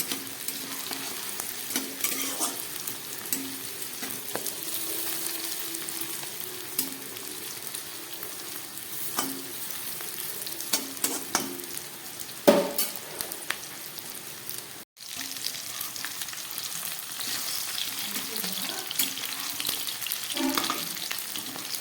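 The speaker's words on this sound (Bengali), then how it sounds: "দিয়ে দিচ্ছি হাফ টমেটো আর দিয়ে দিচ্ছি কয়েক পিস ক্যাপসিকাম ভালো করে এগুলোকে আমি একটু ভেজে নেবো" Tomato and capsicum fry in a pan with a constant crackling sizzle, broken by occasional spatula scrapes and clatters over a long stretch, with no one talking.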